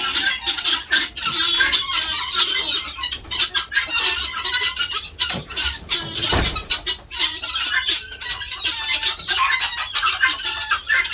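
Several farm chickens clucking and squawking close by, busy overlapping calls with a short thump in the middle.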